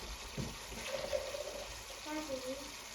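Hot water poured into a pot while making home-style chicken tikka masala, a soft, fairly quiet trickling splash heard over a low kitchen background.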